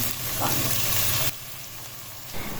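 Ginger-garlic paste with turmeric, chilli, coriander and salt fries in hot oil, giving a dense, close sizzle that drops abruptly to a softer, quieter hiss partway through, with light stirring underneath.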